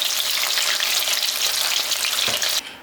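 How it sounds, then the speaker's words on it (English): Loud, steady crackling sizzle of shrimp frying hard in hot oil in a wok, continuous and close, cutting off abruptly at the end. "I'm just tossing in the shrimp in there"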